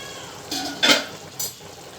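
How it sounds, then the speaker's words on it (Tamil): Chilli chicken with garam masala is stirred in a pan, a few short scraping strokes sounding close and clear against a faint background sizzle. "சேர்த்துட்டு இது கிளறி கொடுத்துட்டு ஒரு 2 நிமிஷம் அப்படியே இருக்கட்டும்"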